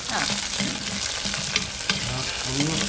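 Four thinly sliced green chillies fry in hot oil in a pan for a pearl spot fish dish, a steady close sizzle broken by the scrape and clatter of stirring.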